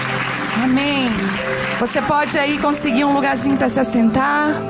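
A church congregation applauds in a steady wash of clapping beneath someone speaking over it, her voice loud and close while the clapping stays underneath throughout.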